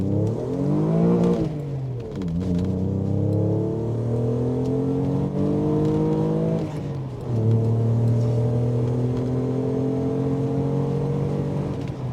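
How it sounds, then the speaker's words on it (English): An Alfa Romeo 164 Cloverleaf engine accelerates hard through the gears, heard close from inside. Its rising revving tone climbs, drops sharply at each of three gear changes and climbs again, with no talking. "Time to take it through the gears, I think."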